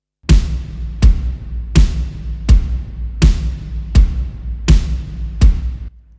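Three layered drum sounds mixed together, big and wide, landing in a steady pattern of about eight strikes with a deep booming low end and bright crisp tops, no voices.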